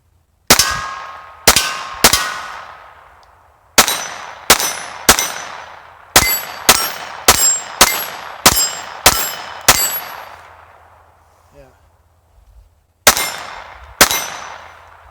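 Taurus TX22 pistol firing Federal Auto Match rounds, with about thirteen sharp, loud reports in quick irregular bursts and short pauses between groups, each shot ringing briefly.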